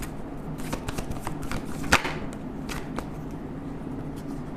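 Tarot cards are shuffled and drawn by hand in soft, rapid riffling flutters with one sharper snap near the middle, close and fairly quiet.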